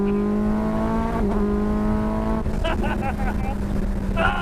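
A Cup 200 road-legal racecar engine revs high toward 11,000 RPM, a loud sustained whine with steady harmonic tones that shift as gears change, followed by quick bursts of revving.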